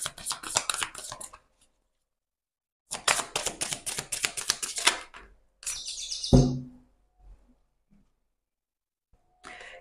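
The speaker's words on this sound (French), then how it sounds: "ce petit oiseau, il fait beaucoup de bruit. Il veut qu'on l'entende." A small bird chirps in quick, bright bursts separated by silent gaps, fairly close and clear, with a sharp click partway through and no talking.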